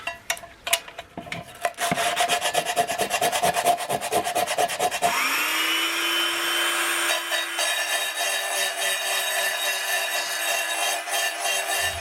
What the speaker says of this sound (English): the power file might be a little bit too aggressive